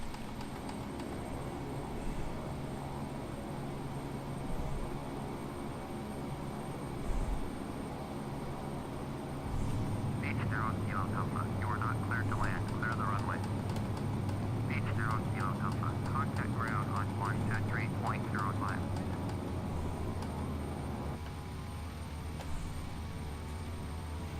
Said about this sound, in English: We're going to do some reverse thrusting.